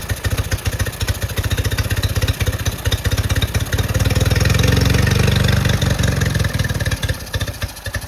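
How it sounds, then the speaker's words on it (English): A motorcycle engine fitted with a carburetor idles roughly, a loud, close, uneven putter with a lumpy pulsing rhythm that swells slightly in the middle and never settles into a smooth beat. "So you can hear that's not a great idle."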